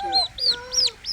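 On a farm in Kapsabet, Kenya, a chick gives a series of four rising, high-pitched peeps close by over soft lower clucking, with no talking.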